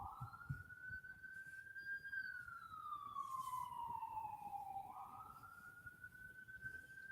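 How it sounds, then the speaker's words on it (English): A wailing siren rises and falls steadily over a low rumble of traffic, sounding moderately close and continuous as a large emergency truck passes. "more sirens coming by."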